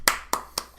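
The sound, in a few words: hand clap during a handshake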